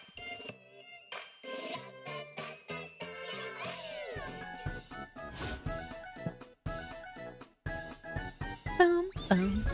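Cat meows from a video game trailer, several short cries rising over a busy musical score, followed by a sharper, louder caterwaul near the end.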